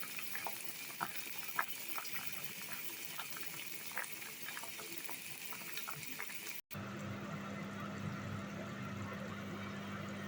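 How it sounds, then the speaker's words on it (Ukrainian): Sizzling and crackling of vegetables frying in a pan, a steady hiss with small pops, then a cut to a pot of potatoes bubbling and boiling with a low hum. "Пожарка смажиться, Картопиця наша кипить"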